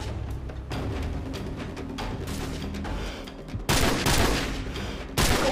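AK rifle gunfire in Call of Duty 4, a sustained rapid burst of automatic shots followed by louder, closer blasts in the second half, with no talking.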